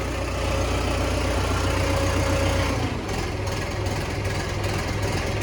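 A tractor engine idles to warm up after starting, giving a loud, steady low rumble nearby that shifts to a slightly different throb partway through.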